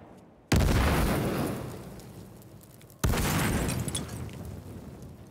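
A gas grenade goes off in a video game with two loud, sudden bursts about two and a half seconds apart. Each blast rings out in a long, roaring decay that fades slowly, with no talk over it.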